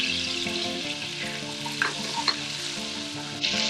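Garlic and cumin seeds fry in melted butter for a curry pakora tadka, a steady close sizzle with a few brief spoon scrapes and clicks throughout, with no voices.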